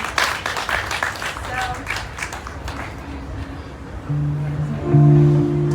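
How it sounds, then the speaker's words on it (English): An audience at a singer-songwriter showcase claps for two helpers, a brief round of scattered applause that thins out and gives way to a voice and sustained tones. "Could I ask y'all to applaud again for Tyler and Steven?"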